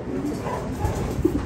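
Pigeons coo softly in a loft where several birds are nesting on eggs, low murmuring calls repeating close by over a steady background hum.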